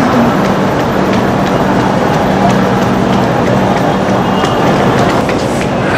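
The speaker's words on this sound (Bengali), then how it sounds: "এইটাই হচ্ছে ট্রেন।" A train at a Kolkata station platform produces a loud, steady rumble mixed with platform bustle that holds evenly throughout, close and continuous.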